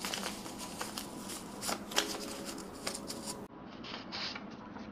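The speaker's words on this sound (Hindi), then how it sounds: "let me shuffle for one more time" Playing cards being shuffled by hand, a steady papery riffling and rubbing close to the mic for several seconds, quieter toward the end, with no talking.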